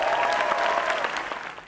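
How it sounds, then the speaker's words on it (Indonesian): Audience applause at a stand-up comedy grand final show in a theatre, a loud, dense wash of clapping that holds steady, then eases slightly toward the end. "sekali lagi tepuk tangan untuk stand up comedy Indonesia."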